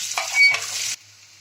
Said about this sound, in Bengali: পেঁয়াজটা আমার লাল লাল করে ভাজা হয়ে গেছে